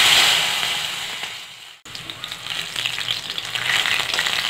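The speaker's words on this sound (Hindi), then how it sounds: "थोड़ा सा बीज को फ्राई होने देते हैं।" Pumpkin seeds fry in a hot pan with a steady, fairly loud sizzle that cuts out for a moment and then resumes with crackles and spatters.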